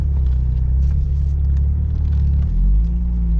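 A Vauxhall Cavalier 2.0 16v rolls into a hotel car park with a steady, close, low engine rumble that shifts pitch as it slows near the end.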